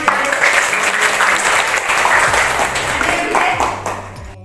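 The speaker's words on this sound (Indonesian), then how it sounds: "Oke, tepuk tangan." Classroom applause after a lesson on mudharabah savings accounting, a steady wash of many hands clapping together for several seconds before tapering off at the end.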